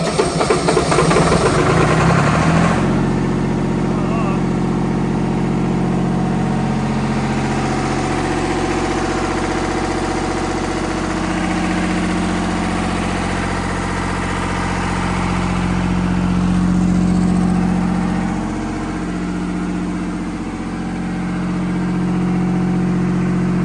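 A used Miller engine-driven welder idles steadily in a shop, its engine note loud and continuous with a slight swell in load near the end, no talk over it.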